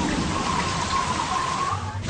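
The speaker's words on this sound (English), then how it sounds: "A heavy rain soaks a small airport in Dubrovnik" Heavy rain pouring over a small airport in Dubrovnik, Croatia, a dense continuous hiss of falling water, steady and loud throughout with no talk.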